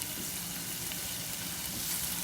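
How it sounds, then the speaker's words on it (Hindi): Onions, ginger and garlic fry in a pan with a loud, dense, unbroken sizzle that holds steady from start to end, with no one talking. "ये अदरक लहसुन 1 टीस्पून इसमें शामिल कर दें और इसको भी प्याज के साथ फ्राई कर लें"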